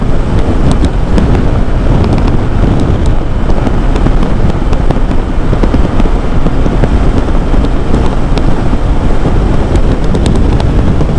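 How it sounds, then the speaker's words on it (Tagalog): Heavy wind roars across the microphone without pause while riding a Bristol Invictus 160 motorcycle, a dense buffeting rush over a low rumble, loud and close throughout. "So medyo may kalakasan yung hangin, no?"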